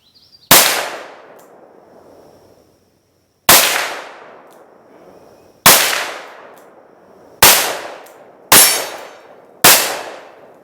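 Six loud, sharp gunshots from a Ruger GP100 .357 Magnum revolver with a 6-inch barrel, fired outdoors at a range. They come spaced a second or two apart, each with a short decaying echo, and no talk is heard.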